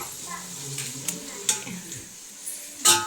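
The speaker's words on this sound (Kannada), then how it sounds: "ಇದು ಈರುಳ್ಳಿ ಚೆನ್ನಾಗಿ ಫ್ರೈ ಆಗಲಿ." Onions sizzle in oil and ghee with whole spices for a mushroom biryani, a quiet frying hiss broken by a few sharp clinks of a spoon against the pot.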